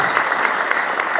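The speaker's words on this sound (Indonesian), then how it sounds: "Tepuk tangan yang terbaik buat Tuhan Yesus." A church congregation applauds for Jesus with steady, dense clapping that fills the room, loud and continuous throughout.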